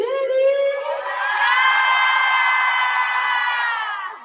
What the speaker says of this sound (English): make some noise if you from Trenton